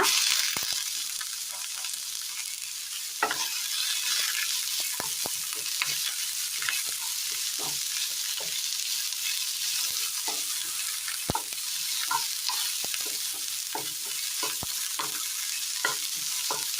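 Sliced onions, later joined by coconut, fry in hot oil in a pan under a steady close sizzle, with frequent sharp clicks and scrapes from a spoon stirring throughout.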